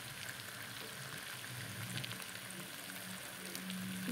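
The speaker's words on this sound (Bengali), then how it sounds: "দেখো বন্ধুরা, ঝোল দিয়ে দিলাম।" Chicken curry sizzles in a pan right after broth is poured in, a soft continuous bubbling hiss at low level, steady throughout with no talking.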